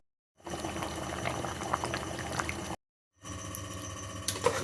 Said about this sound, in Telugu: ఈ నీళ్ళన్నీ అయిపోయేదాకా స్టవ్ మీద పెట్టేద్దాం.